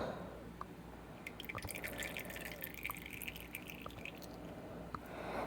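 Liquid coating is poured out of a 3D printed punchbowl, heard as faint, scattered drips and trickles against a low background hum, with no talk.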